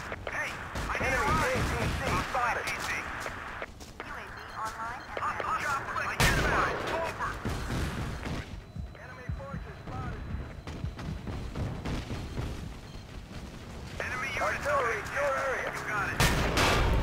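A military video game battle with tanks rolls on as dense gunfire and heavy booms pile up continuously, with players talking over the combat throughout.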